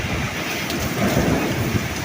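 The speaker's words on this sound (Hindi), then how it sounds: "आप देख सकते हैं बारिश" Heavy rain pours in a steady hiss during a windy storm, with low thunder rumbling beneath the downpour throughout.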